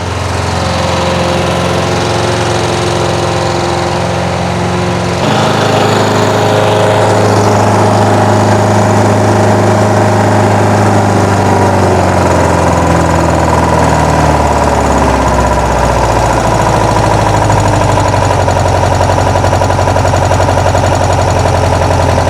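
A 1972 VW Bus engine, freshly fitted with a new 38mm carburetor, runs loud and close at a steady idle. The drone shifts pitch slightly partway through, then settles into a constant, even run.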